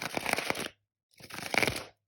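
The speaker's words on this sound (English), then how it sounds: "also a minimalist deck, but also an amazing shuffler because look at this" A minimalist tarot deck is shuffled from the corners in two quick, crackling bursts, close and fairly loud, with a short silent pause between them.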